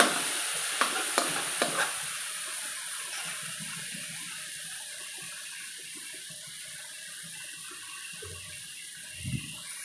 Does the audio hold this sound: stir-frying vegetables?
yes